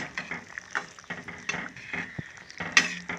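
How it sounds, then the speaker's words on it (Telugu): A spoon stirs sarikanda curry in a cooking pot, scraping and clinking against the metal in a steady run of short, close knocks and rattles with no talking. "దీన్ని ఒకసారి కలుపు కలుపుదాము"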